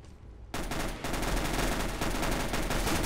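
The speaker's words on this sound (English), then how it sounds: "Shots everywhere." Rapid automatic gunfire sprays in Counter-Strike: Global Offensive, a loud, dense burst that starts abruptly after a short quiet moment and keeps hammering continuously without pause.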